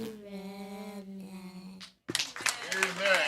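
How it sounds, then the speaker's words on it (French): Sustained singing at a Sunday morning Baptist church service cuts off, then the congregation breaks into loud clapping mixed with voices. "On nous applaudit."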